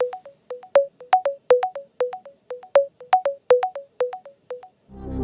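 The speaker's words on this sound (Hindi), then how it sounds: "इनको फोन लगाया जाए" A telephone ring-back tone pulses as a call is placed on a television quiz show, repeating double beeps in a steady rhythm, clean and alone, with a click at the end as the line connects.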